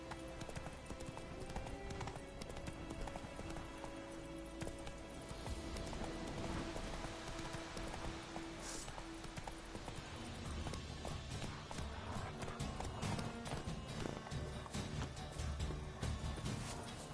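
A horse gallops in The Witcher 3, its hooves beating a continuous rapid clip-clop for the whole stretch, moderately loud, over a busy game soundscape.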